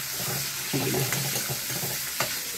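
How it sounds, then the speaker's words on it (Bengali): Onion and coconut stirred in hot frying oil in a pan, a soft steady sizzle with a few scraping stirs and light clatter, close and moderately quiet, with no talking. "এবার তেলের মধ্যে এটা নাড়ছে"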